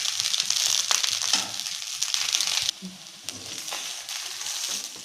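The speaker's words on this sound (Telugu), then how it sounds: "అన్నం చిట్టపట్టలాడే వరకు ఉంచుకుందాం" Egg fried rice crackling in a hot pan, a bright dense sizzle with scattered pops that drops lower partway through, then keeps hissing quietly, no talk.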